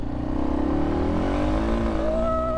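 A Yamaha XT250 dual-sport motorcycle with a 19-horsepower single-cylinder engine revving hard in second gear as the rear tire kicks out, a loud close engine note climbing steadily in pitch, with no talk.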